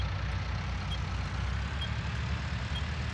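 A tractor engine idles in Farming Simulator 19 after starting, a steady low rumble with a dense broadband hum holding level and fairly loud throughout, with no voices.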